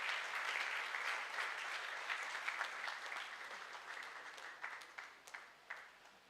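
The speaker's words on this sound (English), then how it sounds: "with a huge round of applause" An audience in a hall applauds a guest at a business event. The clapping is faint and distant: dense at first, then thinning and tapering into scattered claps.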